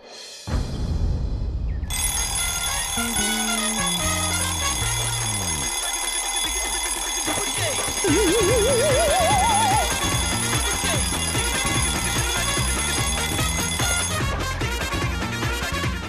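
An alarm clock rings loudly in a bedroom early in the morning, a sustained bright electronic trill that goes on for many seconds, layered over dramatic background music.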